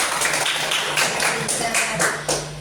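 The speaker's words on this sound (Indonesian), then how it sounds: "tepuk tangan dulu anak-anak" Children clapping their hands in a classroom, a fast run of sharp, close claps in quick rhythm over a steady low hum, with no talk over them.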